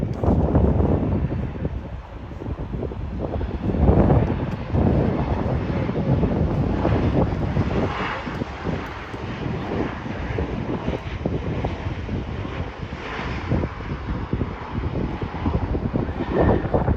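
A Southwest Airlines jet at Charlotte airport, its engines roaring steadily with a broad rumbling hiss and some wind noise on the microphone, loud and sustained, no talking.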